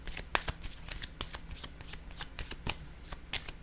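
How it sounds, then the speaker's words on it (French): Playing cards are shuffled and laid down close up, a quick run of crisp riffling flicks and taps that carries on steadily and fairly quietly. "Je vais déposer une carte ici."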